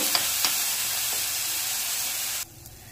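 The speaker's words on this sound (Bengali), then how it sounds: "তো চালটাকে ভালো করে ভেজে নেব।" Raw rice for payesh fries in a pan with a loud, even sizzling hiss and faint stirring scrapes, then cuts off sharply near the end.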